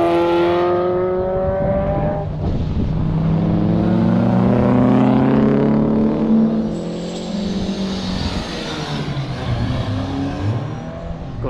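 Cars at a mixed drift and grip track day rev hard and loud, their engine notes rising and falling as they sweep past close by, with a strained high-rpm roar throughout.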